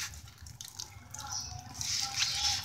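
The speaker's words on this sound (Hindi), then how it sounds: "फिर हल्का सा नल चलाते हैं" A tap runs lightly while a water container for pet birds is cleaned, a soft trickle and drip that grows steadier and louder toward the end, with some handling noise.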